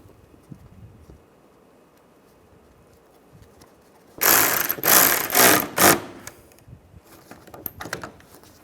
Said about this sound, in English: behind the fender flare, put these bolts in, or screws, line that up